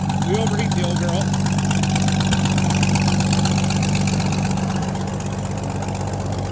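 An old tractor with a leaking radiator idles close by in a steady, even rumble, with a person speaking over it.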